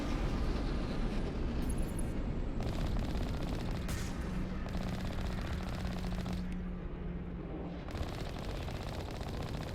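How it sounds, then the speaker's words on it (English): Dense, continuous automatic gunfire rattles through a Mass Effect Legendary Edition firefight on Insanity difficulty, loud and near, with overlapping bursts filling the whole stretch and no talking. "Oh, they shooting."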